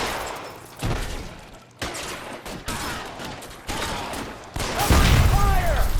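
Gunshots in L.A. Noire, a series of loud, sharp cracks spaced about a second apart, each followed by a short echoing tail, ending in a heavier burst of fire.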